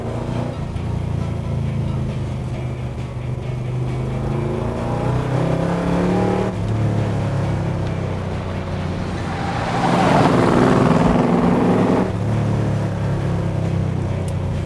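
A Ford XY GT engine revs while driving, a steady throaty drone with rising and falling throttle surges, loud and close from inside the car, swelling around the middle.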